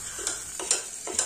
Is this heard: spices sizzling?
yes